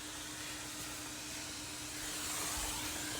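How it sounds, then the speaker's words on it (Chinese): A vacuum cleaner runs with a steady, fairly quiet hiss and hum during cleaning of a Sub-Zero refrigerator's freezer compartment, holding an even drone with no talk. "这个吸尘器咋回事？"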